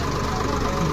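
A tractor engine idles on a boat at a Ganges river ghat, a steady, rough, noisy rumble lasting under a second.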